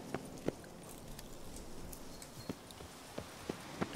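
Roach's hooves as Geralt rides in The Witcher 3: Blood and Wine, a light, irregular clip-clop of steps, some sharper than others, under a steady low background hum.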